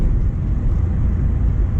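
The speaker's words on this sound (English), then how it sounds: "It's a fun little car to drive" Mk1 Renault Clio with a D7F engine drives along, a dense, steady low rumble of engine and road noise heard from inside the car, loud and unbroken, with no talking.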